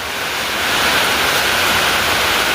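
Heavy unseasonal summer rain pours down in a loud, dense, unbroken roar that fills the whole scene, with water running into a shop.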